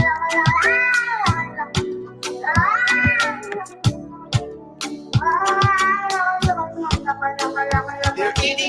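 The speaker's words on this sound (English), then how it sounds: "They're eating the cats. Meow, meow, meow, meow." A cat meows repeatedly in a rising and falling, sing-song rhythm, loud and close, mixed with sharp percussive beats and a few brief vocal bits.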